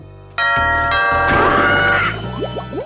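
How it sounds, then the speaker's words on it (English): Drawbridge bell at a castle moat in the video game Blazing Dragons: a loud two-note ding-dong chime rings out over game music and fades, followed by a few quick rising sliding tones. "That bell must summon the drawbridge guard."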